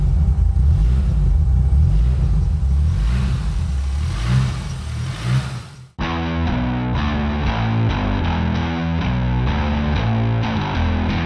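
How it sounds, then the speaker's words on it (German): A Porsche 924 Carrera GTS rally car's engine idles while warming up, a steady close rumble for about six seconds before it cuts abruptly to music. "Motor läuft einwandfrei, jetzt lassen wir mal warm laufen."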